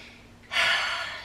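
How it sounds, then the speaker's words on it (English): A deep inhaled breath during a guided yoga breathing exercise, a clear airy rush drawn in close to the microphone and held steady for most of a second after a quiet start. "take a deep breath in"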